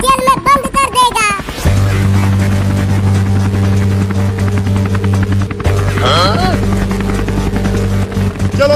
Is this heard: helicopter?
yes